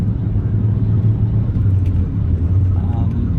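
A Honda with pop-up headlights cruising at 60 mph around 3,000 RPM, giving a loud, steady, shaky low engine and road drone that continues without break.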